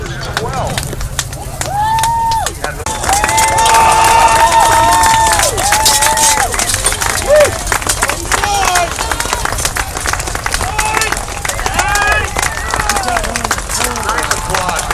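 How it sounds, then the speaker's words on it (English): A large outdoor crowd at a Gettysburg 150th anniversary event applauds and cheers loudly and continuously, with whoops and shouts rising over steady clapping. "Nice applause, Lord Grant, Franklin area."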